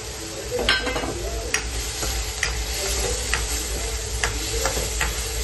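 Potatoes tossed into spices frying in a pan for a home-style pea curry: a steady close sizzle with scattered sharp crackles and light stirring scrapes, no talking.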